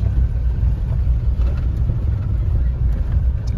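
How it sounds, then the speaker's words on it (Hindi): A Mahindra Bolero SUV rolls through water during off-roading, its engine a steady low rumble close by, with faint splashing and sloshing mixed into the continuous drone. "पानी में से होते हुए जाएगी गाड़ी"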